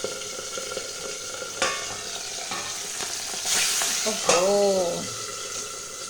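Katla fish pieces frying in hot oil with bursts of splattering, sharp crackles and pops up close, a person speaking briefly partway through.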